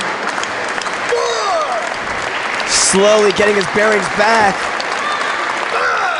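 Wrestling crowd at a DGUSA independent show in 2011 keeps up steady applause and cheering across the whole stretch, with a commentator talking over it.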